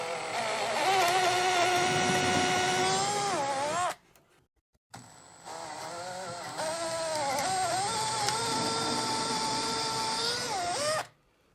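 A power drill whines at high speed while boring into wood, two long sustained runs with pitch dips as the bit loads up, separated by a brief pause.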